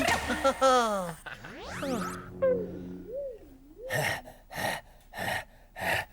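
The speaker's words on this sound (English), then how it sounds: "I'm panting" A Hoobs puppet cartoon character pants in a run of four loud, rhythmic breathy gasps at the end, after whistling, swooping cartoon sound effects.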